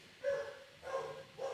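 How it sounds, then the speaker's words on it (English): Dog in the Swan's Quest sensor arcade coding game giving a few short, moderately loud barks or yips spaced about half a second apart, with no voices over them. "The dog is very excited about this particular piece"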